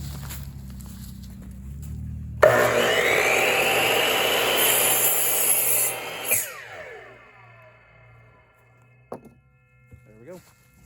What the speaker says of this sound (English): I've already got the miter saw set at a 10-degree angle,